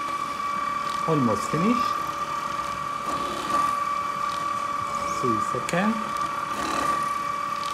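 Gako Unguator mixing machine running at high RPM through a long mixing cycle, giving a steady mechanical hum with a constant tone, loud and near, while a voice speaks briefly over it.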